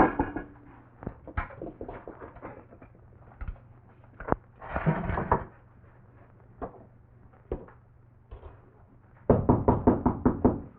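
Knuckles rap on a wooden cabin door in scattered single knocks and brief clusters, ending with a louder rapid burst of knocks, fairly close over a low background hum.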